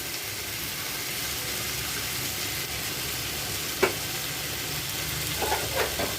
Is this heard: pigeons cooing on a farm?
no